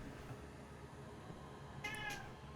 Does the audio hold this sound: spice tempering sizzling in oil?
no